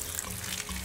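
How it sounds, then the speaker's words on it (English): Water runs steadily from a tap into a basket, a continuous splashing flow that fills the whole moment without pause. "I'm trying to fill up this basket with water."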